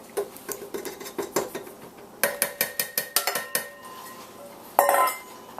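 Flour is mixed into a cream mixture in a bowl with rhythmic clinks and scrapes of a utensil against the bowl, in quick repeated strokes with brief pauses, close and alone.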